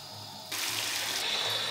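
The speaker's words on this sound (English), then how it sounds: "The tub's filled." Water gushes from a bathtub tap into a filling tub, a steady broadband rush that starts abruptly after a brief quiet moment and continues close and loud to the end.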